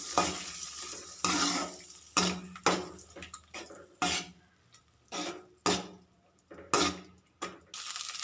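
Egg seasoned with salt and pepper is stirred and fried in a pan for egg fried rice. Repeated scraping strokes in an uneven rhythm rise over a steady background sizzle, close and clear.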